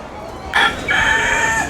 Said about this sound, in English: They got a lot of wild roosters running around, making themselves known.